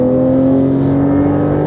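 A car on a race track passing close by, a loud steady engine drone with a strong sustained tone that holds level for the whole moment, no voices.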